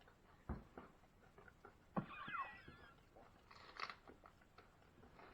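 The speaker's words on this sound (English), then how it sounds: "Lots of crunch. That celery and the apple." Crisp bites and crunchy chewing of celery and apple, a few sharp crunches separated by quieter chewing, close and soft.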